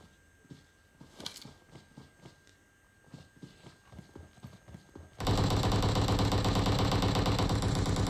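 AK rifle fire in the mobile battle-royale game PUBG Mobile, a string of rapid, evenly spaced shots at moderate volume, followed by a sudden loud, dense burst of sustained noise near the end, with no talking.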